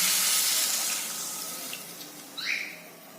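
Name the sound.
water being poured into a pot for poppy seed curry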